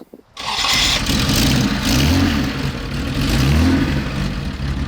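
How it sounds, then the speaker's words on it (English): A Jaguar straight-six car engine on Weber carburetors cranks and catches, then runs rough and uneven, coughing and spluttering as it settles into a lumpy idle close by. "car's running Weber carburetors, so she will cough and splutter a little bit while she builds up temperature"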